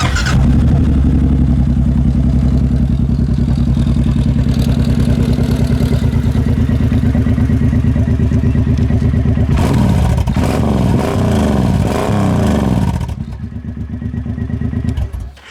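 A 2009 Suzuki M90 motorcycle engine idles loud and close with a rough, throbbing low rumble, then shifts to a lumpier clatter before settling.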